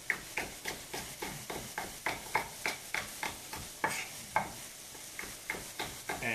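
Thin-sliced vegetables for cheesy scrambled eggs cook in a pan, stirred in a steady rhythm of scraping strokes over a soft sizzle, close and alone.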